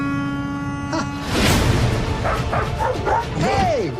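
A dog barks and yips in a short burst of several close, loud barks, with a whining tone at the end and voices nearby.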